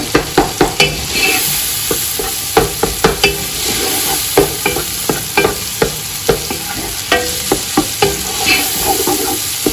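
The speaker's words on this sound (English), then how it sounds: "I'm going to add the egg. Just break it down a bit." Beaten egg stirred into frying chicken pieces in a hot pan, a steady sizzle broken by regular sharp scrapes and taps of a utensil, close and loud with no voices.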